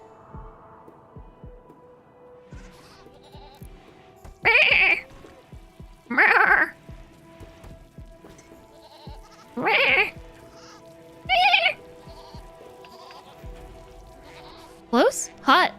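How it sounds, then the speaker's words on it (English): Sheep bleats from the RimWorld 1.6 Odyssey game come in short, loud calls, about six spaced several seconds apart, over a quiet low hum, with a voice talking softly in between. "No, that's definitely a sheep."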